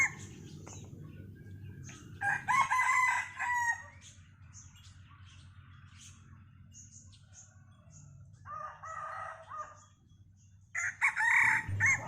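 Roosters crowing on a chilly, overcast farm morning, several loud crows in turn with quiet gaps between, some nearer and some farther off, with no talk.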